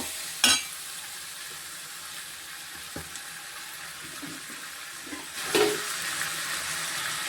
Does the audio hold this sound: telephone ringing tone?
no